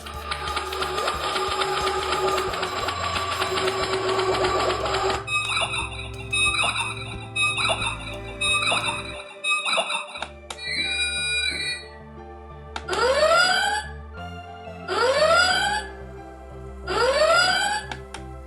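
A 1/6 scale Quantum Mechanix Star Trek captain's chair replica plays loud electronic effects: a steady tonal hum, then chirping computer beeps and bleeps, then several sweeping rising swooshes in a row, with no talk.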